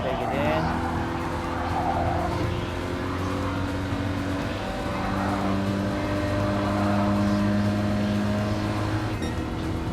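A Renault Sport race car engine in Gran Turismo Sport drones and shifts pitch through a hillside right-hand turn, with steady, loud mechanical tone and brief tire noise, while someone talks over it.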